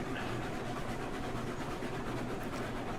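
A train rolling along the track in Railroads Online, a steady continuous rumble with a faint rhythmic clatter and no talk over it.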